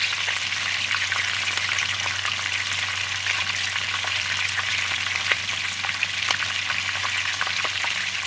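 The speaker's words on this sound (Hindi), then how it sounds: "इसको अच्छे तरीके से आपने फ्राई कर लेना है।" Chow mein with bell pepper fries in a hot pan for Korean-style noodles, giving a loud, constant close sizzle with small stirring ticks throughout and no voices.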